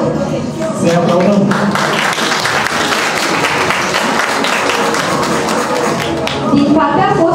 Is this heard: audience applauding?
yes